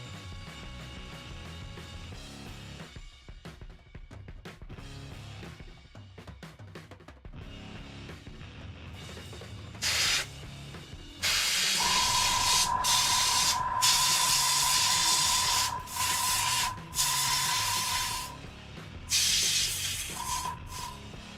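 An airbrush sprays paint onto a scale model at a hobby bench, giving steady bursts of close, airy hiss, with a longer sustained spray run and a faint tonal whine in the second half.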